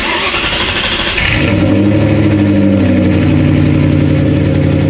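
A loud straight-piped Ford Mustang engine with a slight tick cranks and catches, then settles into a deep, rumbling idle with a few throaty revs, close and unaccompanied by speech.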